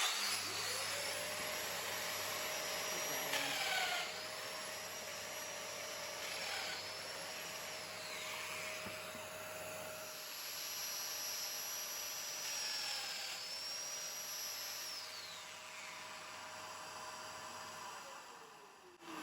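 A Festool-style domino joiner cuts mortises in wood, with a steady high motor whine and dust-extractor hum, several rising and falling plunge cuts over about twenty seconds, with no talking.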